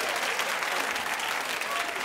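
An audience claps together in a dense, even burst of applause that carries at steady loudness throughout.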